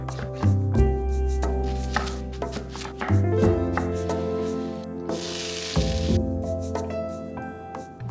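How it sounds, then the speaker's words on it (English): A knife cutting peeled butternut squash into cubes on a board, with firm, irregular chops close by and a faint sizzling hiss in the background. "So I'm gonna cut this into cubes and I'm gonna air fry it"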